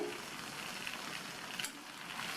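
Coriander and mint leaves being stirred into a tomato chutney frying in a pan, giving a soft, steady sizzle with a few faint scrapes, heard alone and fairly quiet.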